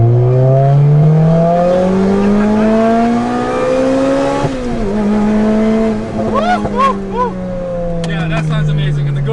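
A Lotus Exige S with a 1.8-liter supercharged engine accelerating hard in second gear, its rising engine note loud and close for several seconds, dipping briefly at a shift before climbing again, with a little tire noise late in the run.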